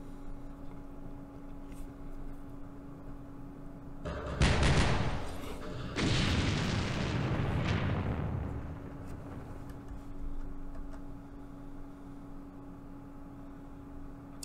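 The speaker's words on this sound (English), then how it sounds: "With all that artillery, they just fired one gun." Artillery fire in the wargame Campaign Series Middle East: two broad booming bursts, one around the fourth second and a longer rumbling one after it, fairly loud over a steady low hum, with no talk.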